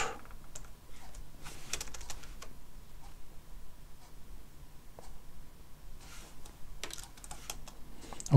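Light clicks of typing on a computer keyboard, irregular bursts of keystrokes with short pauses, close and fairly quiet, no talk.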